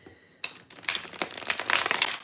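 Playing cards are shuffled up close, a burst of crisp riffling and snapping, repeated in quick papery rustles.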